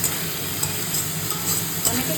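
Onion paste fries in oil with whole garam masala, bay leaves and dried red chillies, a steady close sizzle with faint stirring and no voices.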